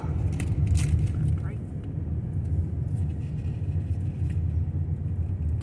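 A car rolls along a park road at White Sands National Park, its steady low engine and road rumble continuous throughout, with people talking over it inside the vehicle.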